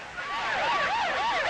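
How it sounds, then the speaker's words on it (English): Ambulance sirens wail across Beirut, a rising and falling electronic tone repeating in smooth sweeps, moderately distant and steady with no voices. "Ambulances screamed throughout Beirut, carrying dead and wounded to nearby hospitals."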